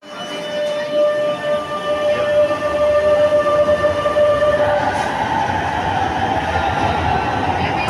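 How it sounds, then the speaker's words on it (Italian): Milan metro Inverter 8101 train pulling into a station, a loud steady rumble of wheels and motors with a sustained inverter whine that shifts pitch as it slows, continuous throughout with no talk. "Ed ecco un inverter 8101 per Comasina"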